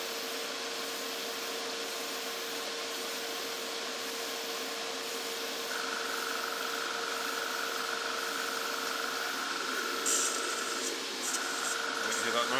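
X20A thinners blown through a hobby airbrush during cleaning, a steady hissing spray with a sustained whistling tone joining partway, loud and continuous throughout.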